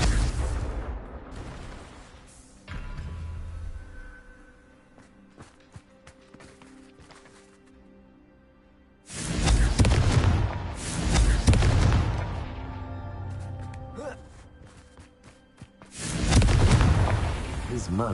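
Confringo spell explosions in Hogwarts Legacy land as two loud, booming blasts several seconds apart. Rumbling combat noise and a speaking voice fill the quieter stretch between them.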